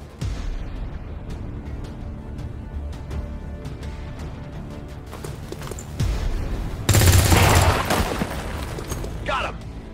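Gunfire in the video game XCOM 2, scattered sharp shots over a busy battle bed, then a loud dense burst of automatic fire and explosions, with a soldier's voice heard briefly.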